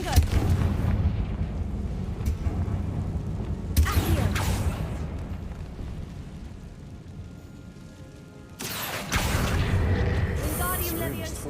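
A Confringo fire spell explodes in Hogwarts Legacy, with booming blasts and bursts of crackling debris at intervals, separated by quieter rumbling stretches.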